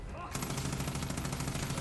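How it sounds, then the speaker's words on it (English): Rapid, sustained automatic fire from a machine gun in the shooter game Far Cry 5 (Dead Living Zombies DLC) erupts abruptly after a brief quiet moment and continues loudly to the end. "Machine gun."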